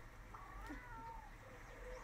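A cat meowing in the video game Monster Hunter Rise, a single faint, drawn-out meow with a short trailing mew, alone over quiet background noise.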